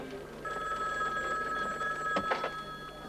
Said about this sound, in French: Capitaine Delilio, un appel sur la une.